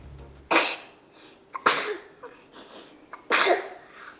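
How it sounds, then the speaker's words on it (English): Three sharp sneezes burst out close by, each a quick explosive burst followed by a softer breathy tail, spaced about a second apart in an otherwise quiet room. "Always sneezes right on top of me."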